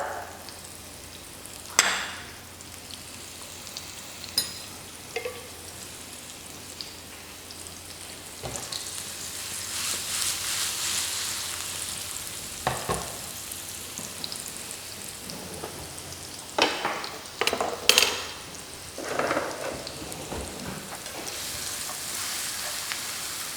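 Onions with a little salt fry in a pan, a soft continuous rain-like crackle and sizzle lasting over twenty seconds, punctuated by occasional sharper clicks and scrapes of stirring, with no talk.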